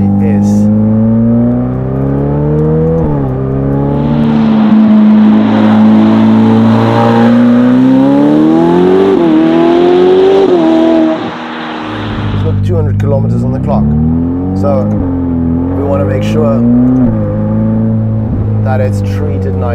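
A Novitec Ferrari F8 N-Largo with its flap-actuated exhaust open revs hard, its engine rising and falling through repeated sweeping blips, loud and close, with a brief dip before more revving.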